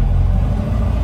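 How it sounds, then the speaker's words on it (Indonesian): A 1988 Suzuki Jimny Katana idles up close, a loud steady low engine rumble with an even pulsing throb and no voices over it. "Nah, jadi gini ya suara mesinnya ya,"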